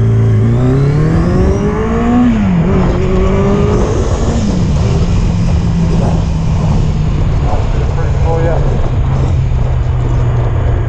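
A loud Yamaha XJ900 Diversion motorcycle engine revs hard and climbs through gears, its pitch rising and falling repeatedly, close and continuous.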